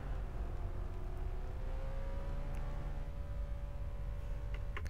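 A car engine in the game Arma 3 hums and whirs steadily, its pitch rising slowly as it accelerates, fairly quiet and alone without talk.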